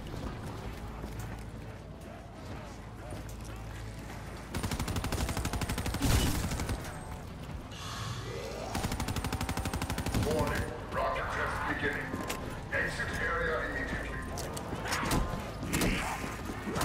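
Gunfire in Call of Duty Black Ops III: sustained automatic bursts and scattered shots, loud and close in stretches, mixed with clattering mechanical and in-game effect sounds.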